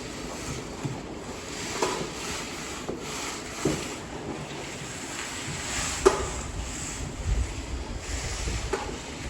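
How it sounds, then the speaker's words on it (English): Wind pushing through a building on a concrete job site, a continuous rough rushing with gusty buffeting against the microphone and a few soft thumps. "The wind's cranking right through here at my back."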